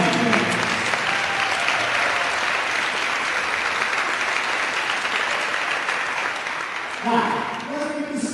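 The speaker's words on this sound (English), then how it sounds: "let's give a round of applause for St." A crowd at a St. Kate's versus Concordia college volleyball match applauds its champions, sustained, full clapping and cheering throughout, with a voice on the loudspeaker briefly cutting in near the start and again near the end.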